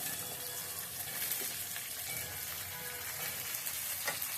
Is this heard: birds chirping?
no